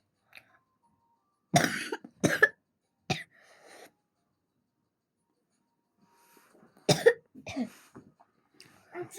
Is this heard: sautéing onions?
no